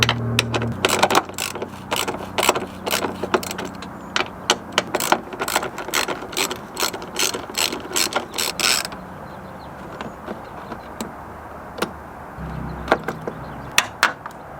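A hand ratchet works the lower hatch strut bolts on a Nissan 350Z, with quick clicking strokes in busy bursts that thin into sparse, scattered clicks, close and alone.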